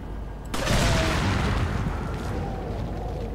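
A single loud gunshot cracks out, followed by a long rumbling echo that slowly fades, in the game Resident Evil 4.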